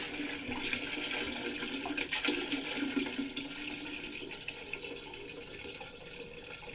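Liquid waste pouring out of a Thetford 365 Porta Potti portable toilet tank, a steady rushing, gurgling flow that carries on throughout with slight surges, fairly close and with no talking.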